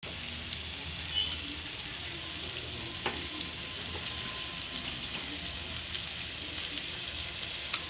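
Spices fry with ginger-garlic paste in a pan for a tarka, giving a steady, quiet, even sizzle that goes on with no gaps. One or two faint clinks or stirs break in near the middle.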